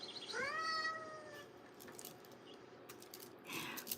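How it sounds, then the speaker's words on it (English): A cat gives a single drawn-out meow near the start, clear and fairly close, followed by faint clicks and rustles. "I love the little meow that comes out of it"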